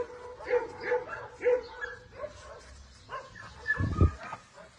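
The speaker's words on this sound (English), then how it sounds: "Poor dog." A shy mother dog at a shelter whimpers and yips in a series of high, wavering whines, close by, ending with a lower bark-like burst.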